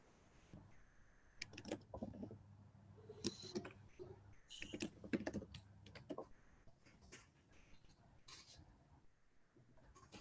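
Quick note-taking on a computer keyboard during an online team meeting, with faint, irregular clusters of key clicks and taps over several seconds, very quiet and close, with no talk over them.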